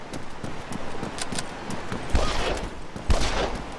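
Gunfire in the video game Arma 3, a rapid rattling burst of shots followed by two louder, heavier reports, heard close with no talk over it.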